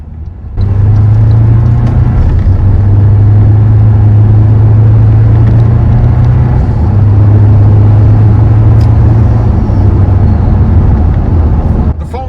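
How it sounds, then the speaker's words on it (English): A Toyota Tacoma pickup fitted with boost tubes drives on the road, its engine a loud, steady low drone with rumbling road noise that holds nearly unchanged for about twelve seconds. "Now, we're gonna get out on the road, see what the truck feels like."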